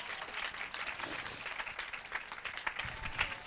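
Congregation at a church service applauding throughout, a steady dense patter of hands at moderate level with no pauses, fairly distant and diffuse.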